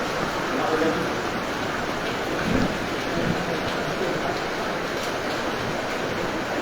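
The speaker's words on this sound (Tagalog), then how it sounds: "Bakit pa rin ang ulan eh" Heavy typhoon rain pours steadily in a dense, roaring wash, with a low rumble beneath and faint voices now and then.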